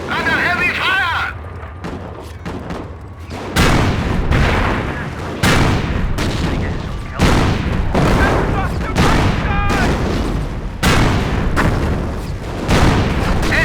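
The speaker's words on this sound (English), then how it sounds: "Under heavy fire!" Heavy gunfire and artillery in the Company of Heroes World War II strategy game during German armor training: repeated loud booming blasts and rattling fire in bursts, with game voices talking between and over them.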